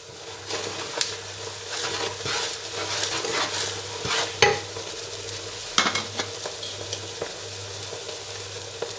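Chicken and bhindi masala sizzling in a pan while being stirred, with repeated scraping and clattering utensil strokes over a soft continuous fry, fairly quiet and close.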